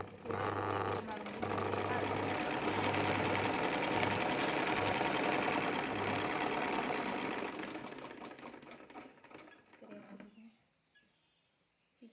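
A sewing machine runs fast and steady stitching a hook strip onto a blouse, a loud, even mechanical whir with rhythmic needle chatter that slows and stops near the end, while someone talks over it.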